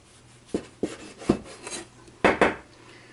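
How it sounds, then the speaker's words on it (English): A knife trims the crust off sandwich bread for a Monte Cristo, giving six short, close scraping cuts against a board, spaced irregularly, with no talking. "First thing, we take off the crust."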